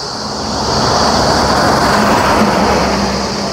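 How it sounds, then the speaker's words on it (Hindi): Busy roadside traffic of bikes, cars, trucks and buses makes a loud, continuous, close roar of passing engines and tyres, with no talking. "यहाँ परिवहन चल रहे हैं, यानी यातायात साधन जो भी होते हैं, बाइक, 4 व्हीलर, रोडवेज, ट्रक हो गया, बस हो गया"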